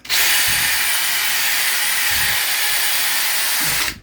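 A power drill fitted with a scrub brush adapter whirs continuously while scrubbing bathroom tile, a loud close steady whine with brushy friction underneath, starting and stopping abruptly over about four seconds.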